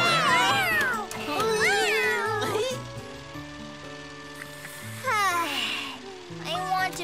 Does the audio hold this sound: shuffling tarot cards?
no